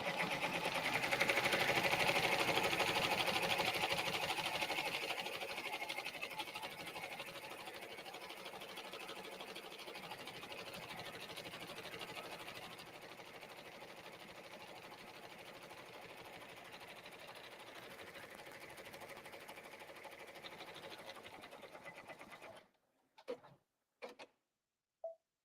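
Brother PR10 embroidery machine stitching a patch, running as a fast, steady mechanical whir with ticking needle strokes for over twenty seconds, loud at first, then slightly softer, stopping abruptly before a few sharp clicks and knocks.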